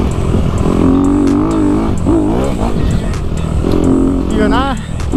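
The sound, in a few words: Honda CRF 250RX dirt bike engine riding in desert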